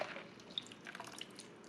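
Salty cabbage brine poured into a fermentation crock, a faint, soft trickle with scattered small drips and splashes, close and quiet with no talking.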